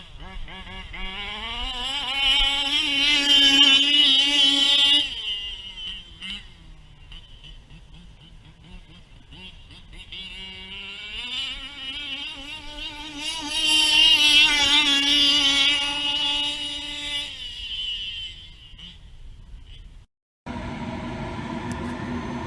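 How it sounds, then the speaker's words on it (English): A small high-revving 1/5-scale nitro RC car engine screams past twice, rising and falling in pitch with a loud buzzing exhaust, then cuts off before another engine burst. "Man, this exhaust is so loud."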